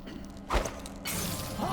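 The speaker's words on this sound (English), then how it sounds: "by throwing the glass over there." Glass bottle thrown in Dishonored 2, landing with a single loud crash and bright shatter, followed by lingering tinkle and a steady game ambience bed.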